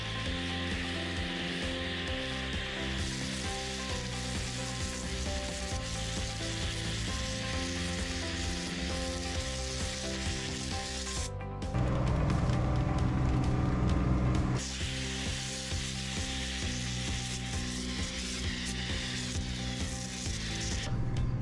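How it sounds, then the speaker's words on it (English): Snow foam fizzes on a car during cleaning, a dense, steady crackling hiss that lasts throughout at close range, briefly louder and rougher midway. "Getting extreme snow foam on first, let that settle in"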